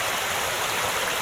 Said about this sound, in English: It looks really pretty with all the water rushing under the bridge like that